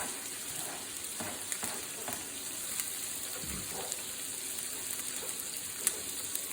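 Onions, garlic and hot green chilies frying in a pan over medium-high heat, giving a steady, dense sizzle and crackle throughout with a few soft clicks of stirring, close and unbroken.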